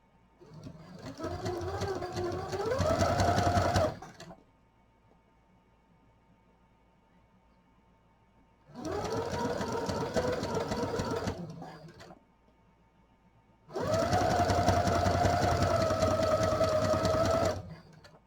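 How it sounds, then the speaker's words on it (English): Sewing machine top stitching 1/8 inch from the edge of a see-through project pouch, running in three bursts of steady whirring separated by pauses, close up and loud. "Now I am sewing mine 1/8 of an inch. That's what I'm doing. I am basically top stitching"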